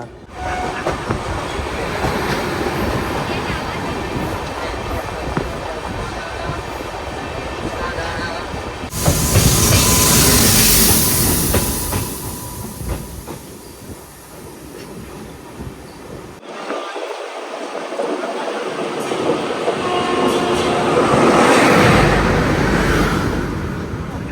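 The Bandra–Jaisalmer express rushes past on the Indian railway, giving a loud, steady rumble and clatter of wheels on track. The noise swells in waves as the coaches go by, and a voice can be heard briefly.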